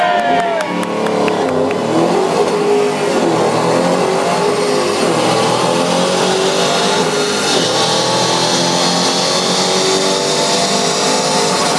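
A Ford Mustang GT500 engine revs hard and climbs through the gears at an auto show, loud and steady across the whole stretch with a crowd cheering beneath it.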